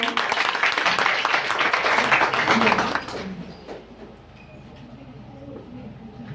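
Dense audience applause at a women empowerment closing ceremony as a speaker takes the stage, loud and steady for about three seconds before thinning into a quieter room murmur.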